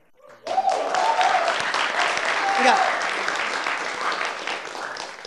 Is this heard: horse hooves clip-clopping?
no